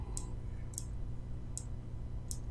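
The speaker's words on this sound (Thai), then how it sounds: "ดับเบิลคลิกนี่ฮะ" Computer mouse clicked in quick pairs, four sharp double clicks evenly spaced about every three quarters of a second, close and crisp over a low steady room hum.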